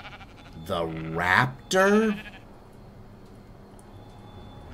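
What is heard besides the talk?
sheep bleating in the video game Ark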